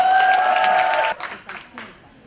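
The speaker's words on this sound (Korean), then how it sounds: "큰 박수 부탁드리겠습니다." Audience applause at an Ignite Korea speaking event in Gimhae, a dense burst of clapping under a held tone from the hall that ends abruptly, leaving a few scattered claps trailing off.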